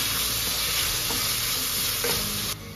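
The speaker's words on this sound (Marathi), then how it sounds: "चला तर यात टोमॅटो ऍड करून घेऊया" Chopped tomatoes go into browned onions for a whole masoor curry and are stirred, a steady loud sizzle with scraping spatula movements that drops off sharply at the end.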